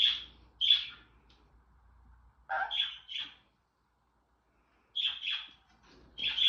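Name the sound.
pet bird chirping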